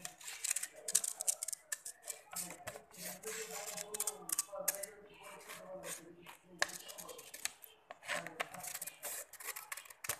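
Scissors snip through paper for a hand photocopy craft in a quiet room, giving close, irregular cuts and rustles with brief pauses and soft speech mixed in.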